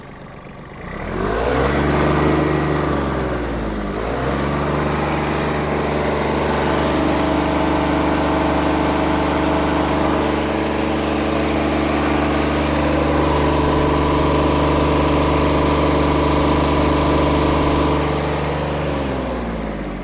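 A Yanmar AF-120 small diesel mini tractor engine idles, then revs up to a high, sustained roar with rising pitch, loud and close, dropping briefly before climbing again.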